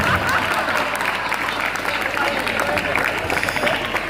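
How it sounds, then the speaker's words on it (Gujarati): Applause from a school audience at an NSS camp event in a hall, a dense, continuous patter of clapping hands that holds steady throughout, with voices mixed in. "વગાડો મારા માટે તાળી વગાડો"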